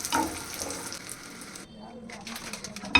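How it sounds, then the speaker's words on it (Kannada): Black raisins roasting in hot ghee give off a close, steady sizzle and crackle that dips briefly midway before picking up again, with a light clink of a utensil at the end. "ಕಪ್ಪು ದ್ರಾಕ್ಷಿ ಹಾಕ್ತಾ ಇದ್ದೀನಿ ನಾನು. ಇದನ್ನು ಅಷ್ಟೇ ನೀಟಾಗಿ ರೋಸ್ಟ್ ಮಾಡ್ಕೊಂಡಿರ್ತೀನಿ."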